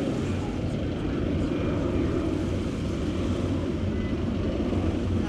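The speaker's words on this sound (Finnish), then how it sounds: "Ja tuolta menee lentokone. Kato tonne ylös." Airplane passing overhead above a beach on Mallorca, heard as a steady, loud, broadband engine drone that stays constant throughout.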